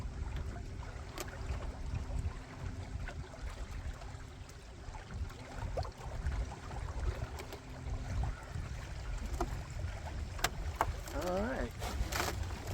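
Oars working a small boat across open water after its outboard motor has been pulled, steady splashing and water wash under constant wind noise, with a few brief creaks and knocks near the end.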